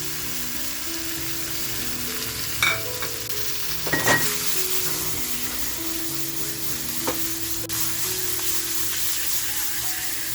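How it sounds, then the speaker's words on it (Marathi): Karli fish sizzles steadily as it is tossed into a smoky chilli thecha, with a broad hiss throughout and a few sharper scraping stirs and clatters of the spatula against the pan. "आता जी आपण कर्ली घेतली आहे ना ती कर्ली ह्या ठेच्यामध्ये टाकून घेऊया"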